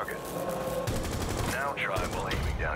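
Rainbow Six Siege firefight: a continuous rattle of rapid automatic gunfire in a steady fast rhythm, fairly loud and close, with voices talking over it partway through.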